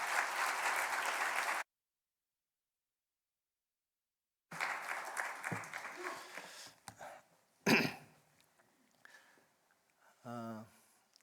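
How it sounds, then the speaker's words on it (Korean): A church congregation bursts into warm applause to welcome a missionary, a dense burst of clapping that cuts off abruptly, then returns more sparsely with scattered coughs and throat clearing in a large hall. "우리 선교사님 나오실 때 환영하는 박수로 맞이하겠습니다"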